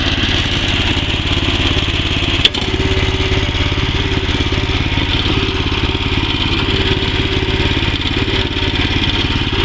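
A used BCS walk-behind two-wheel tractor engine runs in first gear with the choke on, a loud, close, steady single-cylinder idle chug throughout, broken by one sharp click early on.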